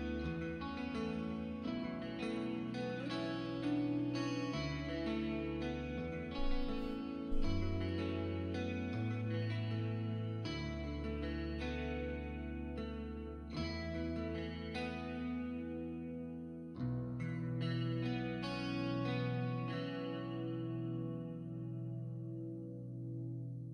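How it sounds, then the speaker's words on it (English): A song plays guitar drenched in reverb over a full band mix. Sustained chords ring out and trail off into a long decaying tail at the end. "Nice reverb on there."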